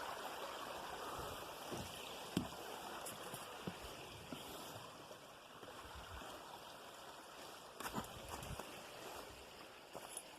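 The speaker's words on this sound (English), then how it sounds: "It's the waterfall." Rushing water from a waterfall near Holmfirth on a hiking trail, a steady broadband roar holding an even level throughout, with a few brief knocks and rustles close to the microphone.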